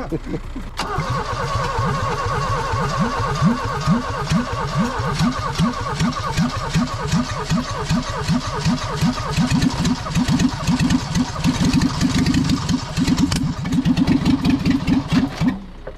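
A Vauxhall Nova abandoned in a field for 17 years cranks with rapid, even starter turns, then the engine catches and runs roughly, loud and close, with voices over it.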